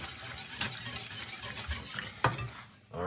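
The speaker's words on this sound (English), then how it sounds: "you need to get the whisk and keep whisking it like this" Thick Jamaican porridge is worked with a whisk in a pot, giving close, wet stirring and scraping noises with a couple of sharper clinks of the whisk against the pot's side.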